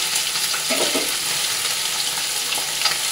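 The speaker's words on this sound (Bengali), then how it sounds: "চলো মাছগুলো ভেজে নিই" Small puti fish coated in salt, turmeric and chilli fry in hot oil, a steady, close sizzle and crackle with a few brief spatters and no talk.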